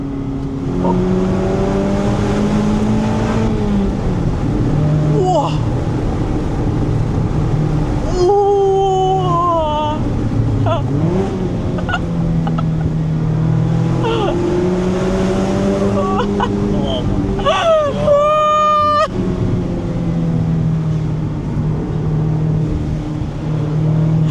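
A loud Mazda Miata engine drones and revs continuously, with tires briefly squealing in a skid partway through, heard from inside the car.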